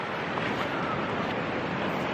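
Waves on Parangtritis beach, a continuous wash of surf with wind blowing across the microphone, steady and moderately loud with no distinct breaks.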